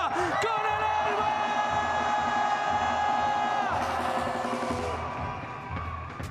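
A packed arena crowd at the Valorant Masters Santiago esports playoffs roars and cheers throughout, with chant-like tones and voices rising over the sustained noise. The cheering fades slightly toward the end.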